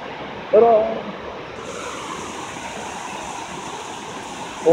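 Bald River Falls rushes as a steady broadband roar from above the drop, with birdsong chirping briefly over the constant water noise.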